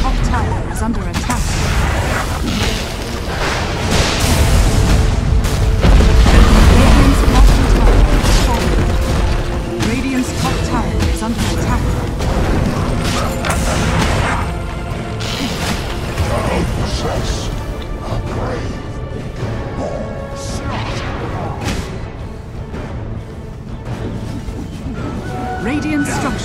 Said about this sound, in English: Radiant's top tower is under attack. Radiant's top tower has fallen.